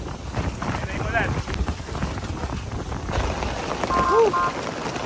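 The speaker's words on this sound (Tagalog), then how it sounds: "Ayan na yung ulan." Heavy rain drumming with strong gusting wind at a hillside farm campsite during a violent storm, a steady loud roar throughout with brief voices heard over it.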